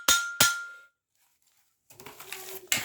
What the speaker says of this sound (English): Just give it a light tap with a hammer.